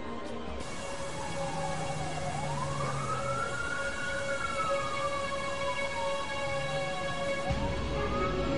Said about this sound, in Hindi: तो देखो एम्बुलेंस भी आ गई।